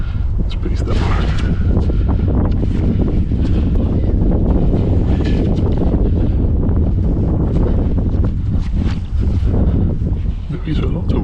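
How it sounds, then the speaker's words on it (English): Strong wind buffeting the microphone at the top of a 180 m power station chimney: a loud, continuous roaring rumble with gusty fluctuations throughout. "There is a lot of wind"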